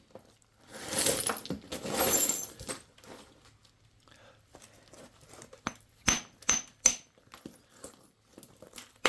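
A hammer strikes extremely fractured Smithville chert while spalling. A crunchy, crumbling rustle comes first, then a few sharp, close clicking knocks ring out in quick succession.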